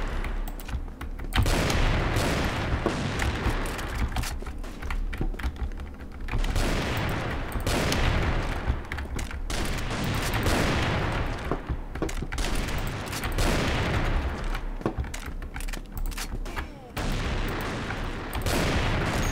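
Rapid bursts of gunfire from the video game CrossFire crackle and boom repeatedly, with dense overlapping shots and explosions forming a continuous barrage.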